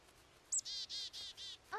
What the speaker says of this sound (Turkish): Bir kuş.